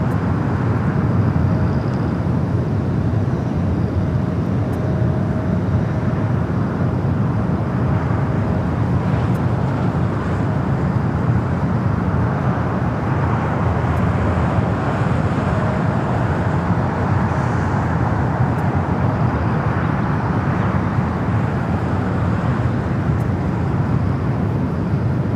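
A converted Airbus A330-200, 18 years old, arriving at LAX on runway 25 right from Mexico City, a loud steady broadband jet roar that stays heavy and continuous throughout, heard from nearby at the airfield.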